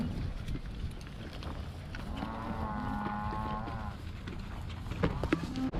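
Dairy cows being moved across a road let out a long, clear moo at moderate distance, set against low outdoor rumble and scattered shuffling sounds.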